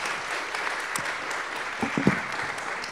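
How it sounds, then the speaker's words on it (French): Audience applause at the close of a professional panel discussion, fairly faint and steady, with a few sharper individual claps standing out near the end. "On peut les applaudir."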